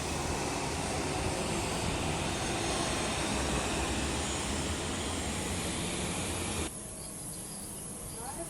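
A continuous, fairly loud roar of airplanes flying at Singapore airport, heard from a garden there, drops to a lower level near the end.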